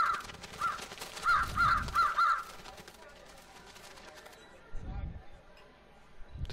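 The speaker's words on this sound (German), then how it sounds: "Und wenn ich jetzt tröte, kommen die Krähen an." Crows cawing in the Trüberbrook point-and-click adventure game, a cluster of harsh caws at a children's shooting gallery near the start, fading afterwards, with low thuds and background game sounds.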